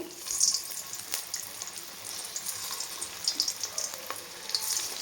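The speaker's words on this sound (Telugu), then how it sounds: "ఇప్పుడు వాటిని దీంట్లో వేసుకొని ఫ్రై చేసేసుకుందాము." Carrot and rice-flour snack pieces deep frying in oil over a medium flame, with a steady close bubbling sizzle and scattered crackling pops throughout.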